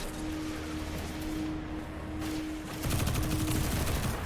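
Sustained SMG gunfire in a video game, a dense stream of rapid shots that runs for several seconds and grows louder near the end, heard up close with no talking.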